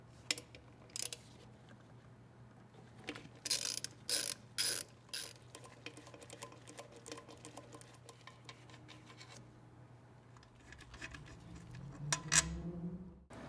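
Ratchet fitted with a T40 Torx bit working engine plenum bolts loose on a GM TPI engine, giving brief bursts of rapid clicking ratchet strokes near the mic, separated by quiet pauses and a few metallic clunks.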